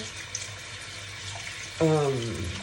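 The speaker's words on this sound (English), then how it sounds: "I wash until the water is clear." Running tap water splashes into a sink while brown jasmine rice is rinsed, a soft steady hiss that turns louder and fuller near the end as the stream hits the bowl.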